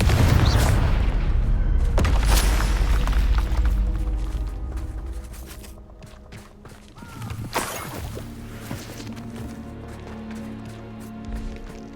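Confringo fire spell explosions in Hogwarts Legacy: a heavy booming blast up front with crackling debris, fading, then a second sharp burst around the middle followed by lighter clattering impacts.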